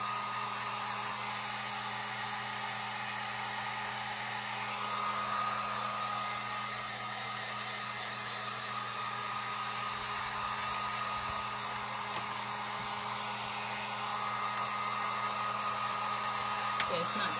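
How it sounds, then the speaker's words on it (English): A Harbor Freight heat gun blows hot air steadily over a freshly painted sign, giving a constant whirring rush that holds level for the whole stretch with no talk over it. "the heat gun came from Harbor Freight"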